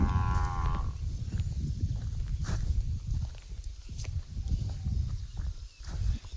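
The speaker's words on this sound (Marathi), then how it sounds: "आता चाललो तिकडे गाईकडे आपल्या" A cow lets out a long, low moo at the start on a farm, followed by quieter shuffling, footsteps and faint farmyard movement, with no talking.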